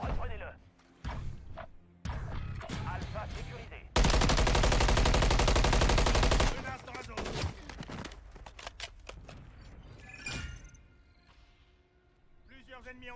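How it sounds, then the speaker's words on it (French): A grenade blows up in Modern Warfare 3 as one loud, sustained roaring blast lasting a couple of seconds, set among bursts of rapid gunfire and thuds. "Oh la grenade, elle était belle"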